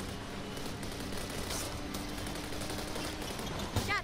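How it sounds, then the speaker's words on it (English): Dense gunfire from a firefight in the video game Fast & Furious Crossroads, set aboard a train in Morocco, forms a steady crackling barrage of overlapping shots throughout, with a slightly sharper burst near the end. "We gotta stop that gunfire."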